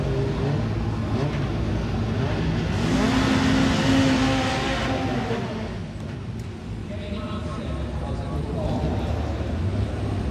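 RX Lites four-wheel-drive rallycross cars racing at Kouvola, Finland, their engines roaring loudly and rising to a peak pass before easing off into a steady drone with talk.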